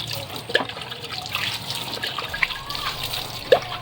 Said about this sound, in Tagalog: Bubuhusan tubig.